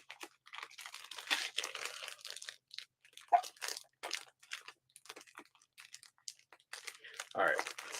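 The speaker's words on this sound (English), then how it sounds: "So Nate sent me a plastic bag" Crinkling and crunching of a plastic bag being opened, with the bag nested inside another bag, arriving in bursts of rustling under intermittent talk.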